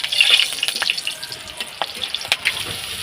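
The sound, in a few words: green chillies added to hot oil in a pan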